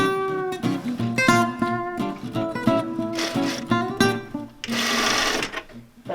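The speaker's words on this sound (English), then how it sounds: "I'm just stitching. This is just to hold it in place. Just a basting stitch." A sewing machine runs a basting stitch along an invisible zipper set beside welt cord, whirring in bursts that start and stop, with a steady tonal hum and a brief louder rush near the end.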